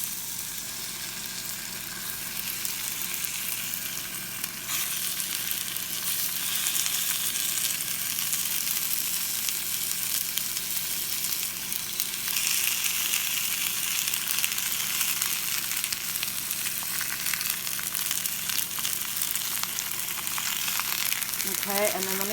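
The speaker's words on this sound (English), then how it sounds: "Okay, so now we've got a little sizzle there." Thin apple slices fry in a hot pan for an apple pancake, giving a steady, close broadband sizzle that holds throughout and swells slightly midway, with no talking over it.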